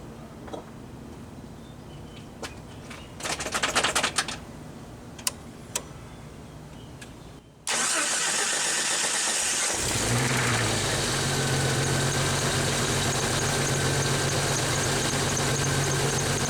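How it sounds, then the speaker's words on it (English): Faint ticks and clicks, then a car engine suddenly catches and roars to life, settling into a loud, steady idle. "Gotta start the engine."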